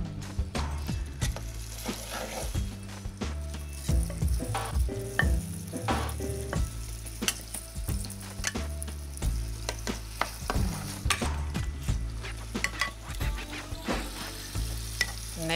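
Flour-dredged osso buco veal shanks sear in hot olive oil, giving a steady close sizzle with repeated clatters and scrapes from handling in the pan, and no talk.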